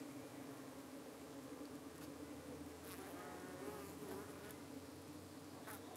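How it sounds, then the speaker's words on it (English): Honey bees fanning at the entrance of a hive in humid weather make a steady, low insect drone, with an occasional closer buzz passing by. "the camera microphone might be able to pick up the noise of the bees fanning in hive."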